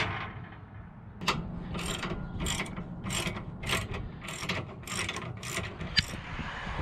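Ratchet wrench tightening a nut onto a bolt on an ebike carrier rack mounted on a Class B RV, about a dozen crisp rhythmic clicking strokes, close and fairly quiet, without talk.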